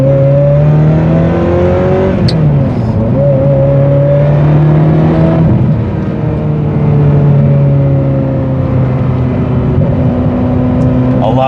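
A Ferrari 355 engine revs up and down loudly through gear changes, with a few sharp exhaust pops crackling at moments.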